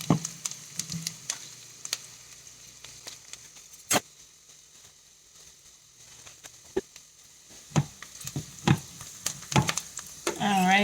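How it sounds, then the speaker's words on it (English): Onions sweating in a pan make a low sizzle broken by frequent sharp clicks and scrapes of a utensil stirring them, fairly close and clear, with no talk over it. "We're going to get these onions nice and sweated."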